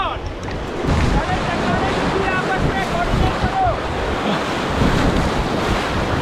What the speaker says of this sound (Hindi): ये हमारा फर्स्ट रैपिड आ रहा है.